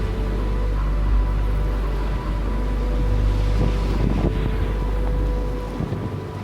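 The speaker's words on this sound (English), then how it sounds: "Guys, it is so windy. It is rocking the 4Runner like crazy up here." Strong mountain wind in southern Nevada buffets a Toyota 4Runner while off-roading, giving a steady, heavy low rumble of gusts against the microphone for several seconds with no talking.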